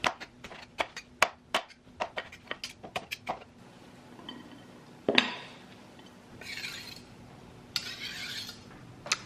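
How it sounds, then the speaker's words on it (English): A knife chopping food on a board makes rapid sharp taps in an uneven rhythm that thin out into scattered knocks and rustling. "This is my favorite part because it's so fun to chop this. Just take a nice good knife."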